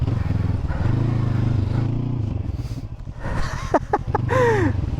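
A Honda NX500 adventure motorcycle being ridden, its engine droning steadily up close, pitch shifting as it changes speed, with wind noise and a few brief sharp tonal sounds toward the end.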